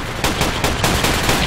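Rapid gunfire in the PR:BF2 video game, a loud burst of about six close shots in an uneven rhythm over constant noisy combat ambience.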